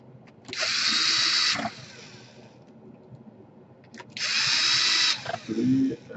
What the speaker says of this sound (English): put the cover back, flip it over, and secure some screws in place here